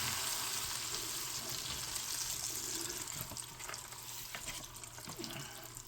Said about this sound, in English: let's dump a handful of these fries in here